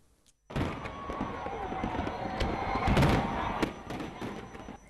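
New Year's Eve fireworks over the Ebrié lagoon in Abidjan, seen from a lagoon-side village: a sustained roar of bangs and crackles mixed with a cheering crowd, loud and continuous after a brief quiet start.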